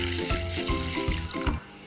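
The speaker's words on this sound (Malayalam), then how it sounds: "ഇനി നമുക്ക് ഇതിലേക്ക് 2 കപ്പ് വെള്ളം കൂടി ഒഴിക്കണം" Water poured into a cooking pot on a home stove, a short run of splashing with several pulses lasting under two seconds, fairly close and without talk.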